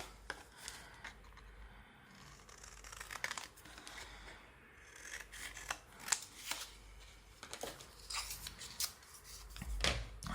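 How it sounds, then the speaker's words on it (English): Cardboard is cut to size with scissors for a junk journal cover, giving irregular snips and rustling crinkles at close range, with quiet pauses between the cuts. "I got some cardboard. I can just cut it like the right size."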